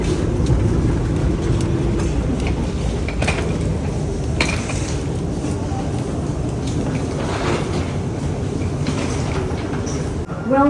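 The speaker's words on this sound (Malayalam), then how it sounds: "ഇവിടെ നിന്നാണ് നമ്മൾ ട്രെയിൻ കയറാൻ പോകുന്നത്" An airport SkyTrain shuttle runs between terminals: a loud, steady rumble of the moving train heard from inside the car, with faint rattles and a few voices in the background.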